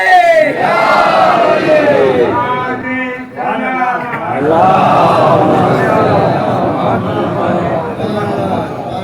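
A crowd at a Muharram majlis gathering roars a loud religious slogan in unison, the chant rising and swelling twice between a reciter's declaimed verses.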